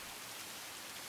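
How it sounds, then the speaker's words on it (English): Rain falls in the visual novel Tsukihime, a steady, even hiss of downpour with no voices over it. "rain, like 3 frames per second rain"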